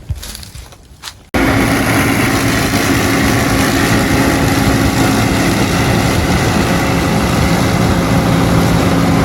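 A steady, loud mechanical combine harvester engine drone runs continuously after a brief quieter start, with a constant rumbling, threshing roar while harvesting corn.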